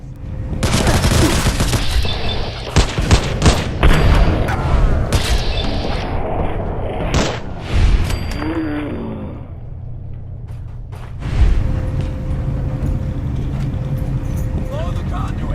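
Gunfire in the Fallout 4 video game, dense bursts of shots and booms rattling loudly for most of the stretch before easing off, with people talking over the fighting.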